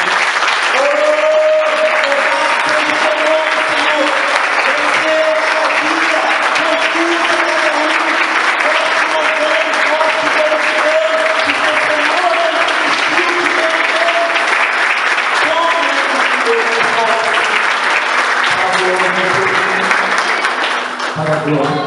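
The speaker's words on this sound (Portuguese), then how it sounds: "Dê um aplauso para ele." A church congregation at a worship service applauds loudly and continuously for over twenty seconds, a thick wash of clapping with a faint sung or spoken voice carrying through underneath.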